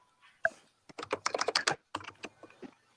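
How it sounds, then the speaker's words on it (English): Fingers typing on a computer keyboard nearby, a brief tap, then quick clusters of clicking keystrokes in uneven bursts with short pauses, fairly soft and close. "Is my typing too loud?"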